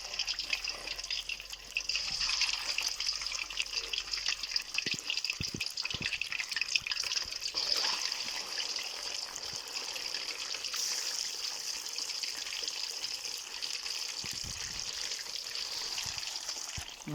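Fish sizzles in hot ghee with a steady bright crackle and scattered pops and spits, fairly close and continuous throughout.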